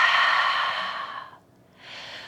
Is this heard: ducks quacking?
no